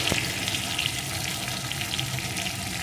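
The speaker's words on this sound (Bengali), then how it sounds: "আবারও কিছুক্ষণ ভেজে নেবো ময়দাটা দেওয়ার পরও একটু ভেজে নিয়েছি" Flour fries in a pan for a fish-head curry, giving a continuous bubbling sizzle at moderate level with small spatters and no talk.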